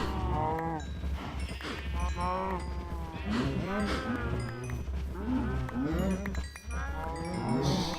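Herd of cows in a video game mooing over and over, many overlapping low drawn-out calls crowding together in a steady, busy chorus.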